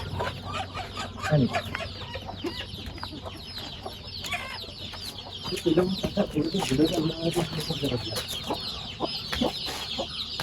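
Desi hens clucking steadily on a poultry farm with high, busy peeping of many chicks throughout, amid farmyard background noise and occasional louder squawks.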